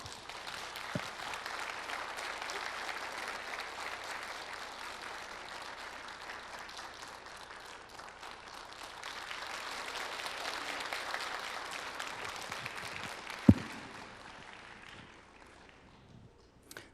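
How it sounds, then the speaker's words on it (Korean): A church congregation applauds as a lecturer takes the stage, a long, even spread of many hands clapping at medium distance that swells slightly midway and fades out near the end, with one sharp knock. "우리 지구촌의 따뜻한 박수로 환영하겠습니다"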